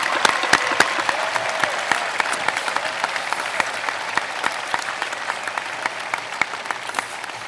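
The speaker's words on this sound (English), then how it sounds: "How about a nice round of applause for our graduates of the class of 2013." Steady applause from a graduation commencement audience for the class of 2013, dense and continuous with sharp individual claps standing out, filling the whole stretch without speech.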